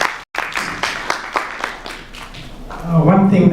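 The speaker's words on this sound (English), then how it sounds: "Let's clap for Ruth" An audience at a climate change reporting workshop claps for a speaker with a steady run of distinct, evenly spaced claps, and then a voice begins talking over the end.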